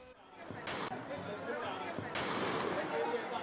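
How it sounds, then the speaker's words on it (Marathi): A former sarpanch fires two gunshots into the air at a milk cooperative election victory procession in Hanumantwadi, Kolhapur, two sharp loud cracks about a second and a half apart over a busy crowd din. "हवेमध्ये गोळीबार उत्साहाच्या भरात या माजी सरपंचाने केलेला आहे"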